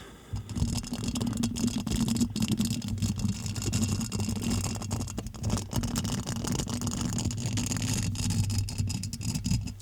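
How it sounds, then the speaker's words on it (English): A brush scrapes and rubs directly against a microphone, producing a close, dense, crackling texture with steady rhythmic strokes and a low underlying rumble. "this brush, which really sounds best directly on the mic"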